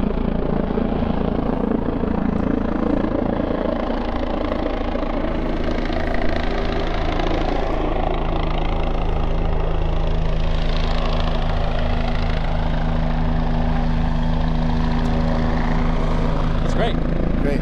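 Engine of a 1947 Navion airplane running steadily nearby, a loud, continuous droning rumble with a pulsing propeller hum that holds throughout.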